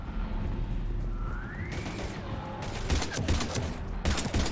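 Heavy gunfire during a Mass Effect 3 combat scene, loud bursts of automatic fire and booming shots stacking up over an action soundtrack, growing denser and more rapid toward the end.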